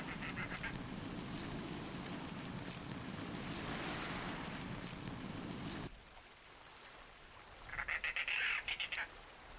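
Seaside ambience in the adventure video game Verne: The Shape of Fantasy, with steady surf and wind, then a quieter stretch and a burst of repeated bird calls near the end, no talking.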